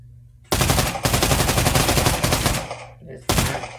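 Sustained automatic machine gun fire from the VR shooter Pavlov on a Quest 2, one long loud burst of rapid shots lasting about two seconds, a brief pause, then a second short burst, with no talking over it.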